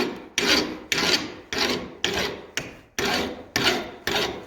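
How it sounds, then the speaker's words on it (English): A metal file rasping across the top of a punch held in a vise, eight steady back-and-forth strokes in an even rhythm, close and clear with no talking. "I can file down the top"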